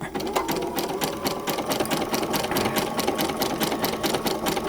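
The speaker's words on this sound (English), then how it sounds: "let's do a lock stitch and then begin to stitch it" Sewing machine stitching a lock stitch on a vintage quilt, a close, loud, fast steady mechanical chatter running evenly throughout.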